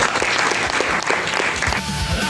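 A congregation at a Pentecost Sunday worship service claps loudly together, a dense burst of applause with a faint tone emerging near the end.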